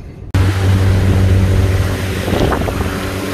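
Motorboat engine running steadily on a wide bay in Crystal River's Kings Bay, a loud continuous drone with wind buffeting the microphone, starting abruptly after a brief silence and holding constant with no talk.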